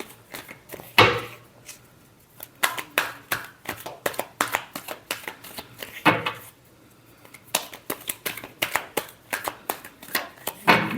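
A deck of tarot cards is shuffled by hand in a series of crisp riffles and taps, sharp bursts clustered irregularly and close, with no talking.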